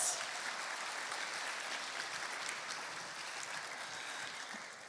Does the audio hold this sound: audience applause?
yes